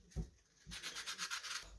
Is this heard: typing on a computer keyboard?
no